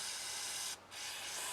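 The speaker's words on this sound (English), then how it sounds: "I'm going to spray down in that firing pin hole" Aerosol cleaner sprayed into the firing pin hole of a Ruger SR22 pistol, a steady close hiss that cuts out briefly partway through before resuming.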